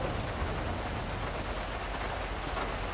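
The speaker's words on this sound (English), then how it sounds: "It is raining here in San Andreas again." Continuous steady rain pouring down in the video game Grand Theft Auto V, an even hiss of drops on surfaces with no pauses.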